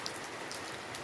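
Heavy rain falling steadily outside a school on a cold day: a dense, even hiss with no gaps and no voices over it.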